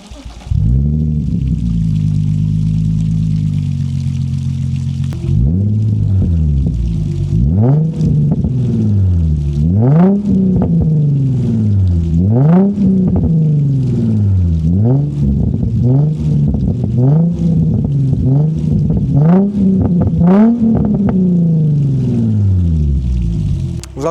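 Nissan 350Z engine cranks and fires up after a steady whir, then settles into a loud, close idle broken by a series of sharp throttle blips rising and falling in quick succession.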